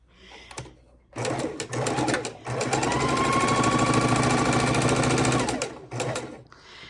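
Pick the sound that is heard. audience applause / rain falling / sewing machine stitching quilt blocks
sewing machine stitching quilt blocks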